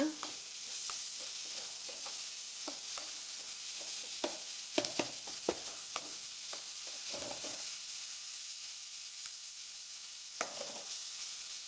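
Onions fry on medium flame for a chicken gravy, a soft, steady sizzle under scattered clinks and scrapes as a spoon stirs them through the pan, all fairly quiet with no talking.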